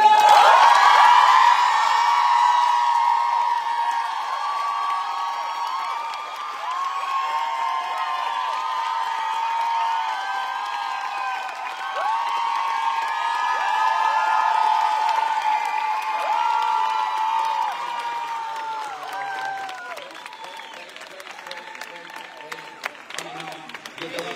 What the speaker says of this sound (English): I want you to make the theater come down. Big applause for it!